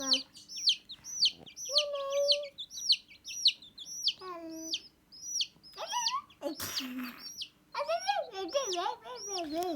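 Many chicks peep rapidly and continuously, high and close, while a voice and an adult speak over them.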